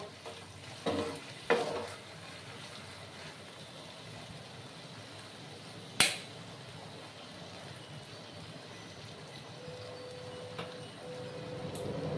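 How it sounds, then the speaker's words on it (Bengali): Spice masala sautés in a pan over a low flame for a Bengali shing fish curry with potato and raw banana, a soft, steady sizzle broken by a few sharp spoon knocks and scrapes. "গ্যাসের আঁচটা কমিয়ে আমি ভালো করে কষিয়ে নেব।"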